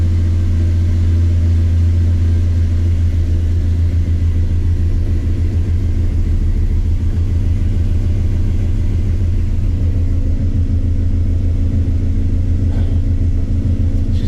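A 1985 Chevrolet C10 pickup engine idles steadily after a cold start, a loud continuous low rumble with an even, unchanging pulse throughout.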